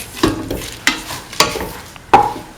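Four distinct scraping stirs of a lentil and coconut milk mixture with salt in a pan, spaced evenly, each a short close clatter of spoon against metal with a faint sizzle between.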